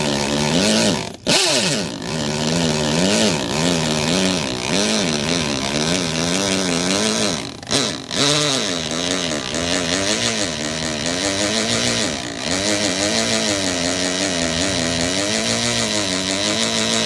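A power drill bores a bit into the brick wall of a house under heavy pressure at low speed, its motor whining steadily with a wavering pitch and short breaks near the start and middle, with no talking.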